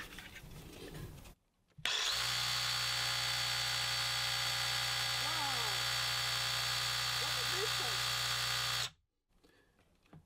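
A Ryobi reciprocating saw runs on a homemade Ryobalt 24V Kobalt battery. It gives a steady, loud, high-pitched buzzing drone for about seven seconds with abrupt start and stop, and quieter sounds before and after.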